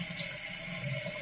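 Tap water runs steadily over a brush's bristles at a bathroom sink, a brief close rushing splash with no pauses or voices.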